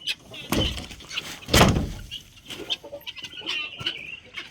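A hen clucking close by, with soft cheeping of her chicks and a few sharper knocks amid the farmyard bustle.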